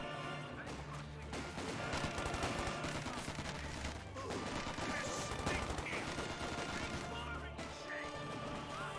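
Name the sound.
Vickers machine gun fire in Company of Heroes 2 video game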